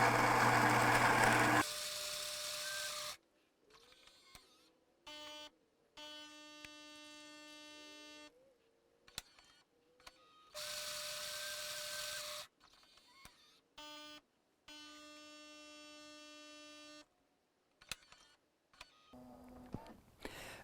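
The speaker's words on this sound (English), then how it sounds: "we have 2 freshly brewed back-to-back espressos" A Gaggia Brera espresso machine brews two espressos back-to-back, with alternating bursts of grinding, pump hum and whirring, beeps and tonal buzzing separated by short quiet gaps, loud and close with no talk.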